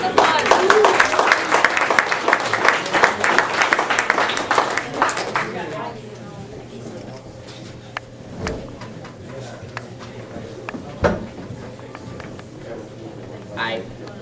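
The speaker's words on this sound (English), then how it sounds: "Round of applause." Audience claps for a band at a college coffeehouse, dense applause for about five seconds that thins to scattered claps and knocks, then a quiet room with occasional stray sounds.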